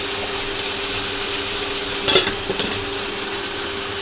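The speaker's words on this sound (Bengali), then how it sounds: "একটু মাছ রান্না করি তো একটু করলা দিয়ে এরকম করে রান্না করছি" Fish and bitter gourd cook in a pan on a home stove, a steady even sizzle running throughout with a brief burst of stirring and scraping near the middle, no voices.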